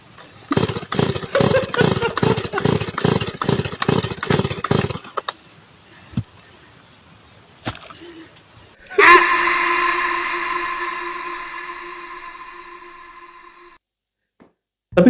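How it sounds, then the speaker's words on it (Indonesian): A competition chainsaw is pulled and catches, its rapid pull-start bursts giving way to a loud, steady engine drone that slowly fades. "Gergaji yang untuk kompetisi itu mudah banget hidupnya"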